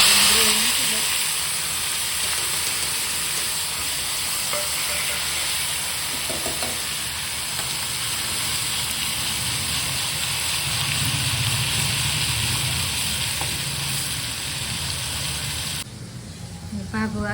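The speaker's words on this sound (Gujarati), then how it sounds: "રાઈ જીરું નાખી હિંગ હળદર નાખીને વઘાર કરી નાખ્યો" Tomato gravy goes into a hot tempering of mustard seeds, cumin, asafoetida and turmeric for dal, giving a loud, steady sizzle and bubbling close by. It continues for most of the stretch and eases off at the end, with faint voices in the background.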